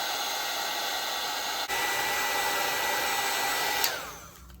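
A heat gun blows with a steady, loud, even whoosh while embossing powder is set on a magazine paper collage, holding constant for about four seconds before cutting off and winding down.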